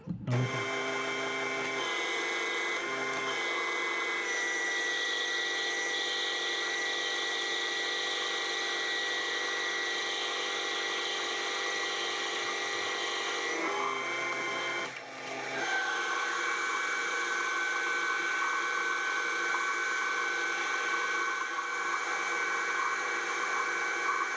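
A metal lathe turning down a workpiece set on aluminium blocks, a steady loud whine and hiss of cutting with sustained tonal harmonics, a brief dip midway, then cutting resumes at a slightly different pitch.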